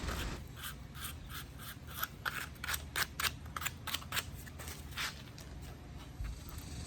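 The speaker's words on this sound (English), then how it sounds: "take a piece of sandpaper and just smooth them out real quick" Sandpaper smooths the cut ends of plastic sprinkler pipe in a run of quick, close rasping strokes, roughly a dozen short scrapes in a brisk rhythm over several seconds, with no talk.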